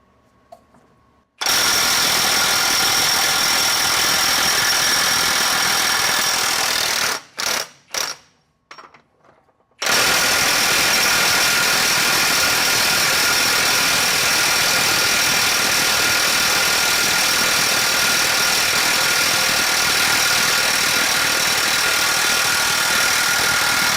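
A RIDGID 18V 3/4-inch high torque impact wrench on a 12 amp-hour battery runs in reverse at speed 3, giving a long loud burst, a few short pulses, then another sustained close-up run.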